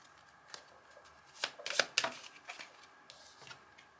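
Oracle cards are shuffled by hand in a quiet room, a faint riffle rising to a short cluster of crisp flicks and slaps before fading to scattered light taps.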